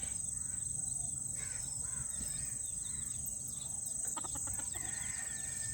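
Rooster and hens clucking in a farmyard over steady background noise, with a few sharp calls near the end and no talking.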